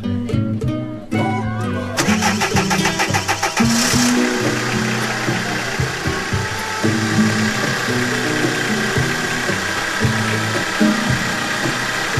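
A car engine cranks over with a few sputters, then catches and settles into a loud, rough, steady running rumble nearby.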